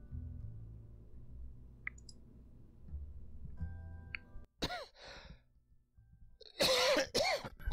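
A man coughs near the microphone in a few harsh bursts with a throat clear, after a stretch of quiet background music and soft clicks from a space game.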